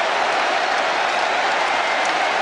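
A large French crowd in a rugby stadium applauds and cheers after France scores against New Zealand in 1999, a dense, steady roar of clapping filling the whole moment.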